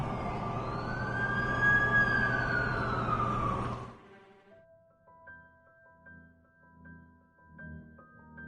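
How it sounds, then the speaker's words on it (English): An ambulance siren in a video game wails loudly with a rising and falling sweep for about four seconds, then cuts off. A quiet melodic chime sequence plays after it. "That's the ambulance I called."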